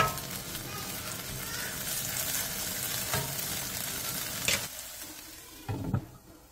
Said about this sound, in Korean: 물 3분의 1컵을 넣고 가볍게 뒤적여준 뒤 물이 끓어오르면 뚜껑을 닫고 중약불에서 5분간 졸여주세요